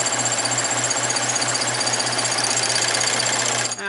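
A serger sewing machine runs at speed to cut and overlock a fabric edge, a loud, close, steady mechanical drone that stops abruptly at the end.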